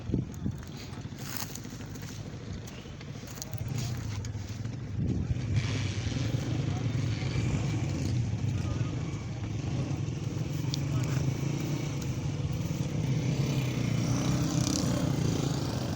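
A motorcycle engine runs steadily throughout, a broad continuous drone that grows slightly louder partway through, with voices talking over it.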